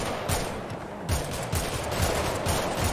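Rapid bursts of gunfire ring out steadily in a GTA roleplay shootout, dense repeated shots with a few sharper cracks layered over a noisy, busy background.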